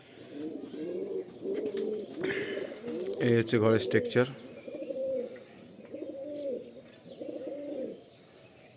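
Pigeons coo steadily inside a tin-and-bamboo cage with netting, a soft repeated burbling that continues under and between a person talking nearby, with a few brighter chirps mixed in.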